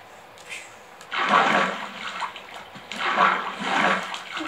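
Rushing water from a waterfall in the Minecraft video game, two swelling gushes of splashing, flowing noise at moderate loudness with no talking.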